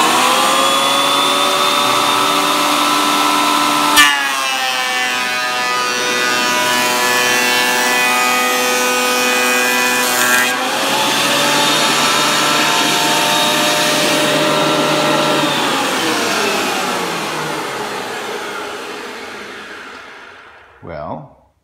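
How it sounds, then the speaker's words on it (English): A 20-year-old Ridgid TP1300LS thickness planer runs with no dust collection or dust hood, its loud steady motor whine dropping in pitch and growing rougher as a board feeds through, then winding down after the cut. "We'll feed this board in and we'll see what happens."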